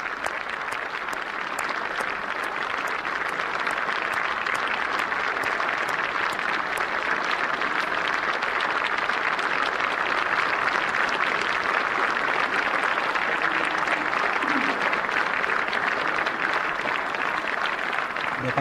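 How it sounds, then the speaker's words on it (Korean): All members of the National Assembly stand and applaud President Park Geun-hye's entrance, a dense, sustained ovation of many hands clapping in a large hall, steady and loud throughout, with a voice speaking faintly underneath. "국회의원 전원이 기립을 해서 지금 박수로 박근혜 대통령의 입장을 환영하고 있습니다"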